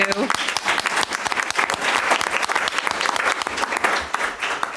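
Board of Education meeting audience clapping for a staff member, Mrs. Hibbs, a full room of steady applause for several seconds with a few voices mixed in.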